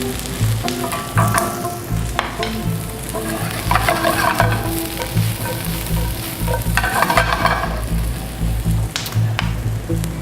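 Salmon fillet sears skin side down in a very hot oiled non-stick pan, giving a loud, continuous close sizzle and crackle with occasional sharper pops and stirring-like shuffles throughout.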